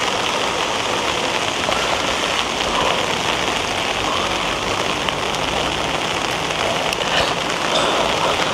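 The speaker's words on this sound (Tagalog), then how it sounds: "talagang, ang hirap umuulan" Steady, heavy rain pours down in a cemetery, a dense continuous patter on nearby surfaces with occasional louder drips, no voices over it.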